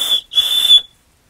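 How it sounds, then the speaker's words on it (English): A small emergency whistle built into a fire steel striker blown in two sharp shrill blasts, a brief chirp then a longer loud tone, close and alone. "somewhat of an emergency whistle."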